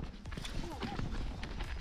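A horse walks through a forest, its hooves clip-clopping in a quick, close rhythm while a person speaks over it.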